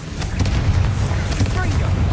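A booming fire-spell explosion in the Hogwarts Legacy video game, a short, dense, rumbling blast close and loud with bursts layered over it.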